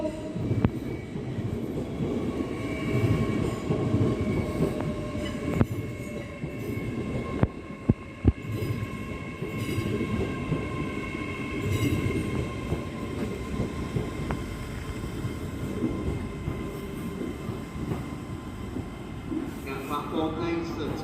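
LNER Class 800 train, unit 800 113, at a Doncaster station platform, rumbling steadily and fairly close for the whole stretch, with faint tonal whine and a few brief clunks midway, under distant muffled announcements.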